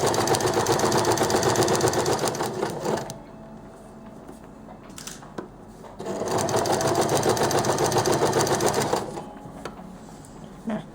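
A sewing machine stitches culotte trouser fabric along a marked line in two loud, steady bursts of rapid mechanical whirring, with a quieter pause between them.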